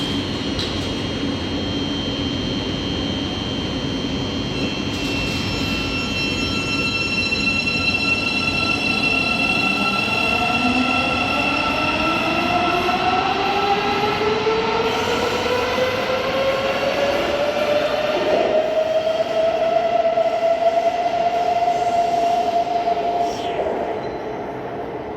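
Trains at London St Pancras International station: a train rolls through with rising, sliding tonal whines and squeals over a steady rumble, loud and close for most of the stretch before easing off.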